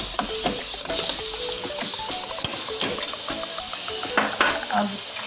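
Minced beef sizzles in a frying pan with black pepper, with a continuous bright hiss and scattered clinks and scrapes of stirring, while faint tonal sounds run in the background.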